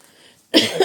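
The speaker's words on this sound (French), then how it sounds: "Je tousse" A single sharp cough bursts out after a moment of near silence, close and fairly loud.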